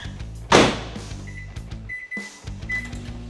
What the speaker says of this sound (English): We're going to start by putting this in the microwave just for 1 minute.